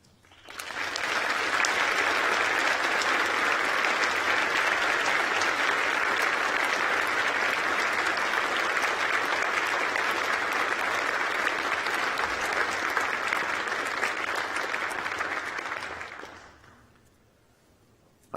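Graduation audience at a University of York ceremony applauds university staff with sustained, dense clapping that holds steady at full strength for about sixteen seconds, then fades out quickly near the end.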